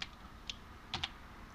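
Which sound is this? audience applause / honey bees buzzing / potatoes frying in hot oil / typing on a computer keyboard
typing on a computer keyboard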